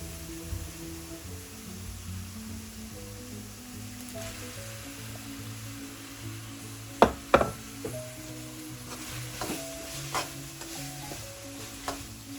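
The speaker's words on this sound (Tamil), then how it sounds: "இப்போ தக்காளி சேர்த்துக்கலாம்." Tomatoes stirred into sizzling chicken masala in a pan: a low hiss of frying runs under a close speaking voice, with a few sharp spoon clatters and scrapes against the pan.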